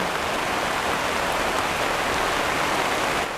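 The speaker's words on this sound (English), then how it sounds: "the rain kind of kiboshed our plans for filming and planting today" Steady rain falls outdoors in a garden planting area, a continuous even hiss of drops on surfaces that stays loud and constant throughout with no voices.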